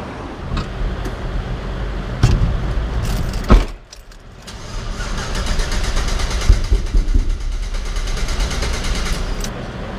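A truck with a tuned 6.0 LS engine runs on dyno rollers, a steady engine drone with a few sharp clanks, a brief dip near the middle, then the engine building back up.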